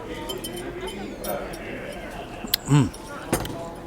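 Glasses clink together in a toast over Bloody Mary drinks at Oak Alley Plantation in Louisiana, a couple of bright, short clinks amid outdoor background noise.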